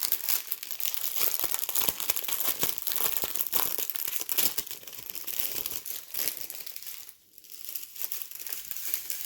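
Diamond painting rhinestone packets are crinkled and torn open in continuous crackly plastic rustling, close to the mic, with a brief quieter gap near the end.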